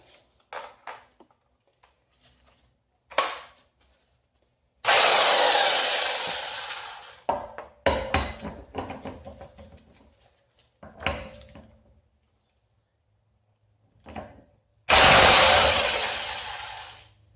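A Harbor Freight electric impact wrench removes a Honda axle nut in two loud, sustained bursts of hammering whir, each about two seconds long. Scattered clanks and shuffling fill the gaps between them, close by and with no talk.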